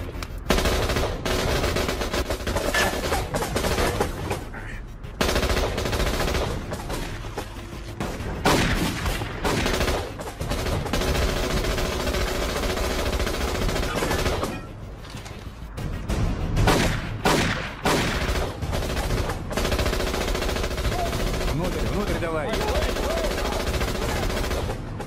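Sustained automatic gunfire in a tense action-movie firefight, loud and near, with bursts and single shots rattling almost nonstop for about twenty-five seconds, a few brief lulls, and shouted voices mixed in.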